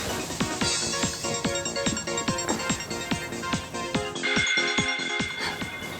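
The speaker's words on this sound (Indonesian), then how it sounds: "Siapa sih telepon malam-malam?" A telephone at night rings with a repeating electronic ringtone, rhythmic tonal pulses over background music, loud and sustained.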